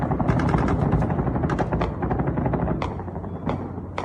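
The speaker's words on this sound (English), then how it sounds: "They got a little rib down there with two machine guns on it, and they're firing both of them into the air." Two machine guns mounted on a small rigid inflatable boat fire into the air along the Iranian coast, rattling off rapid overlapping bursts that come close and loud, broken by brief pauses.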